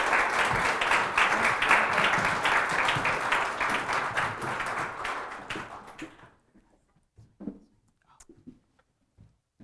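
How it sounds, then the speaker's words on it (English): Audience applause after a documentary screening at a panel discussion, a loud, dense round of clapping that fades out around the sixth second, followed by a near-silent lull with a few small taps and faint murmurs. "we definitely want to give you a round of applause"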